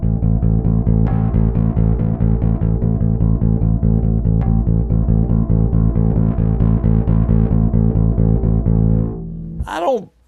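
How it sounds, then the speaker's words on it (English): A bass guitar runs through a Warm Audio Tube Squealer distortion pedal with its tone control raised, playing a loud, sustained, gritty riff of repeated plucked notes for about nine seconds before it cuts off and a brief squeal ends it. "Now, if I bring the tone of the distortion up,"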